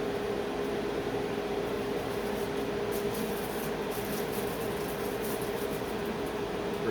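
A fiber laser engraver runs a quick pass: a steady, broadband hiss with a faint constant tone underneath, likely from ventilation and machine noise, continuous and even throughout with no talking.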